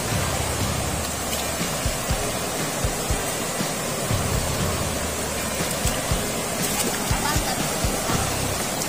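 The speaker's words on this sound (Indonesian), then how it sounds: "Kita melewati sungai." Rushing river water churns loudly as a motorbike crosses the river, a steady broadband wash with faint thumps and a muffled engine underneath.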